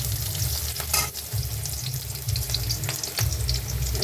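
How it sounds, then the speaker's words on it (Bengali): Garlic, onion and green chili frying in hot oil make a loud, close sizzle broken by a few sharp spatters and stirring scrapes, with no speech. "রসুন দিলাম, পেঁয়াজ কাঁচামরিচ দিলাম তেলে"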